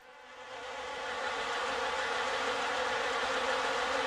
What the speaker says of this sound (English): Wasps, lots of wasps flew up and out of the flowers here